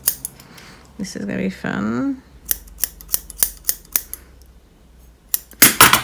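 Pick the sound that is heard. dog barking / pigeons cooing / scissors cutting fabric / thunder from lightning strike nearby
scissors cutting fabric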